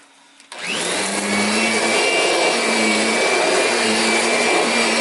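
A Kirby vacuum cleaner switches on and roars loudly and steadily at close range, its whining motor holding an even pitch as it is worked around furniture, with no talk.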